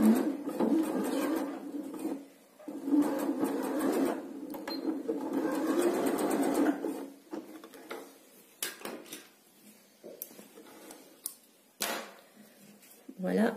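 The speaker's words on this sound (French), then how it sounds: "on lève le pied presseur, on rebaisse le pied presseur et on finit la couture" A domestic sewing machine stitches a seam in fabric for a braided headband, running in a steady whir for several seconds before short stop-start bursts, with someone talking quietly over it.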